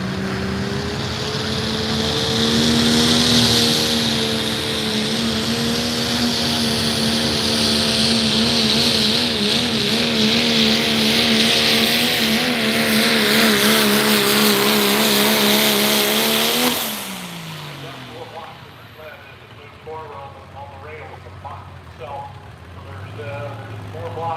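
Antique tractor engines rumble loudly past at an outdoor pulling event in Indiana, a steady droning roar with shifting pitch that cuts off abruptly near the end, leaving quieter crowd noise and faint talk.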